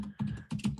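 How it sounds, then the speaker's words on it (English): Keyboard typing on a computer, a few quick bursts of key clatter close by, fairly quiet, with no talking. "Should I start typing in?"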